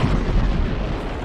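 Holy hand grenade exploding in the Worms video game: a single short, loud, deep blast with a rumbling burst that fades quickly.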